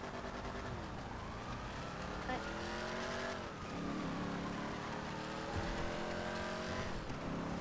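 Phoenix car from GTA driving in snow, its engine revving and whining up and down steadily under continuous talking from players.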